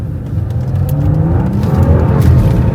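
A tuned 2017 Lincoln MKZ accelerating hard, its engine a loud, deep, steady roar that builds slightly over a few seconds, heard from inside the car without speech.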